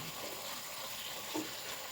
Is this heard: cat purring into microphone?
no